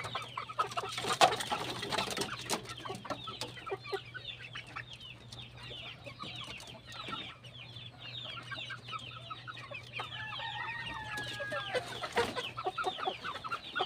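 Rhode Island hens cluck and a rooster crossed with an Asil or giant breed calls in a farmyard pen, with many overlapping clucks and squawks at close to middling distance and no talking.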